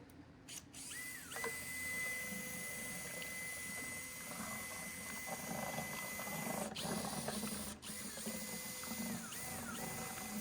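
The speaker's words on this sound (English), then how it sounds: "Okay, little drill." A small electric drill mixing paint with hardener whirs steadily with a mechanical grinding hum, running continuously for several seconds with brief pauses, fairly close.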